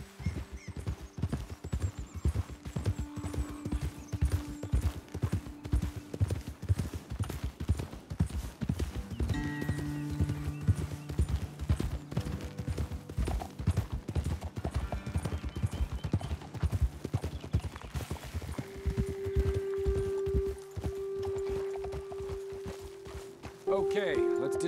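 Horse hooves clip-clopping steadily in Red Dead Redemption 2, a rhythmic close walking gait with occasional whinnies and snorts, running under ambient game sound and intermittent talk.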